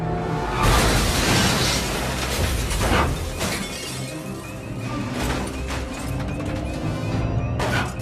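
A truck smashes into a shop storefront, with loud shattering glass and crashing debris in repeated bursts over a dense, noisy rumble.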